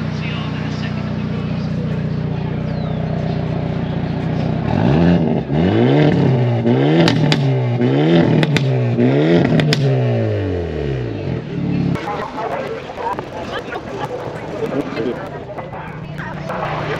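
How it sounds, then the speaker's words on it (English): A Hyundai N performance car engine revs repeatedly in N mode, rising and falling in several loud sweeps at close range, with a rumbling idle before and after and some background noise. "we're gonna rev it up some so you can hear how awesome in the N mode sounds"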